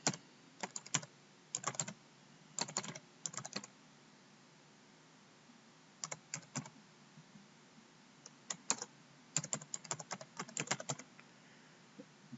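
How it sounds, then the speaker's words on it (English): Fingers type an email address on a computer keyboard in bursts of quick key clicks separated by pauses, close and fairly clear, with no voices. "Okay, so we're going to type in our email address."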